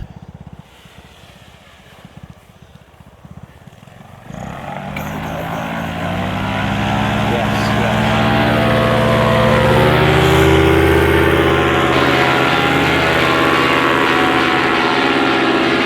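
Paramotor engine and propeller building from a quieter idle to a loud, steady droning roar during flight, close and continuous with wind noise.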